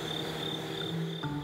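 Crickets chirp at dawn in a steady, high, continuous trill with a few faint low calls beneath.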